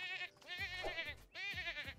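A goat in The Sims 4 bleats in repeated wavering, nasal calls, close and loud, with a brief pause between bursts.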